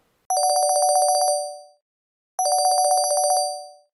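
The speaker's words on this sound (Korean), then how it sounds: "전화 통화를 하고 진행을 해보겠습니다" A telephone rings twice in bright electronic trills, each burst about a second and a half with a pause between, loud and close with no talking.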